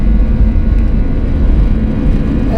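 An airliner speeds down the runway for takeoff, heard from inside the cabin as a loud, steady low rumble and whir of engines and rolling wheels, continuous and without voices.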